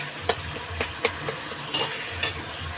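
Boiled potatoes are stirred into frying masala coloured with Kashmiri chilli powder: a soft sizzle runs underneath while a spoon scrapes and taps the pot in a loose, repeated rhythm.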